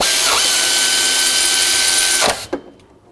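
A power tool runs a steady whirring buzz for over two seconds while tightening the idler pulley bolt on a 2001-07 Toyota Sequoia engine, then stops with a couple of short mechanical clicks, close and loud with no talk.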